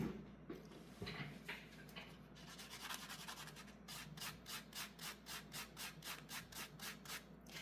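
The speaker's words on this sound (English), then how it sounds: "we're going to buff out that little ding I made" A small ding in an 18 gauge hammered wire link is buffed out: soft rubbing at first, then a quick, regular back-and-forth scrubbing rhythm, close and fairly quiet.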